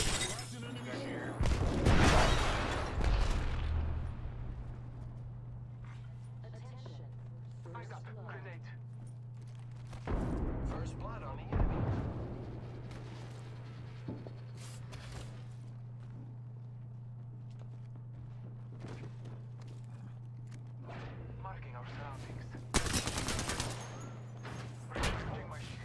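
Grenade blasts and gunfire in a shooter video game, with a few sharp loud bursts early and midway standing over a steady low hum, plus scattered smaller shots and clatter in between.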